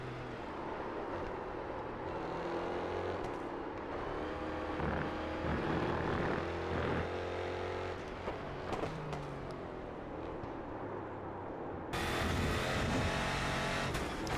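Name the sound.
Renault Laguna 3 race car engine in iRacing video game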